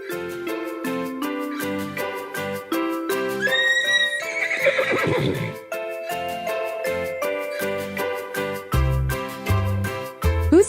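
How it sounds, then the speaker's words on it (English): A horse whinnies loudly over a bright children's farm-animal music track, with clip-clop hooves and a light jingle around it and no talking. "This is a horse."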